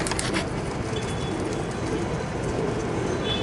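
Pigeons coo at a rooftop pigeon loft in Egypt, soft repeated calls under a constant broadband wash of background noise, with faint distant birdsong.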